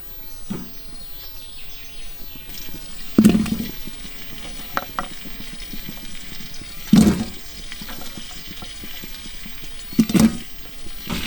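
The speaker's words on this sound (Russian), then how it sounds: "Масло растаяло, закидываем лук и морковь." Onion and carrot frying in melted butter in a pan, a soft steady sizzle with three louder stirring scrapes or splashes spaced a few seconds apart, no talking.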